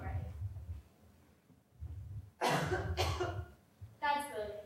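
Two or three harsh, rough coughs close by, in a quick burst, followed by a strained throaty sound, with low murmuring and breathing underneath.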